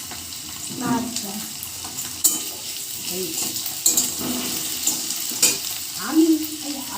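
Potatoes fry in a very hot kadai with turmeric and salt, giving a low sizzle broken by spoon scrapes and knocks. Someone speaks briefly over the cooking.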